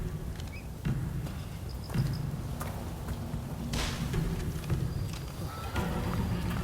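Horses at a horseback archery ground in Rise of the Ronin stamp and clop with a few snorts and whinnies, sounding close and moderately loud against a steady outdoor background.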